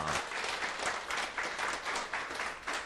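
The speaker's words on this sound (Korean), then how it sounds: "박수 한번 힘차게 하십시다." An audience at a morning company meeting breaks into energetic applause, a dense, rhythmic clatter of many hands that carries steadily for a few seconds.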